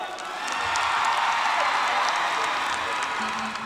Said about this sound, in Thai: ขอเสียงปรบมือดังพอๆกับเมื่อสักครู่นี้ให้กับนักล่าฝันรุ่นที่12